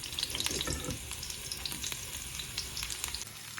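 Sliced shallots sizzle in hot coconut oil in a pan, tempering for a tuna fish curry. The frying hiss is close and continuous, with light crackles and the occasional stirring scrape, and no voices.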